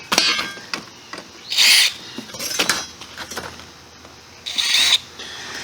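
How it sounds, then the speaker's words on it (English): A larger drill bit is touched briefly to a freshly drilled hole to deburr it and clear the sharp chips, giving two short, loud whirring bursts separated by lighter rattles and handling noises, with no talk. "What we're doing is deburring the hole and getting the sharp chips off of it."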